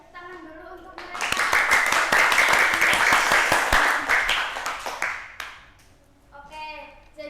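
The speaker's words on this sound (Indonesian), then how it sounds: "Tepuk tangan dulu untuk mereka." Students clapping together in a classroom, a burst of quick scattered handclaps that swells for about four seconds and then fades, with a teacher's voice before and after it.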